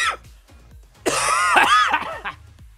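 A person coughs in a short harsh burst, close and loud, followed by throat-clearing sounds, with no talking.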